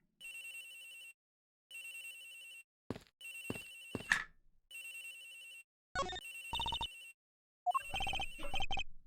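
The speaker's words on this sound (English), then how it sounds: "Agent Hicks's phone! It's ringing from somewhere, sir!" A cell phone ringtone in the Ace Attorney Investigations video game: a bright electronic melody in repeated bursts separated by short gaps, with a few sharp clicks and tones cutting in partway through; no talking.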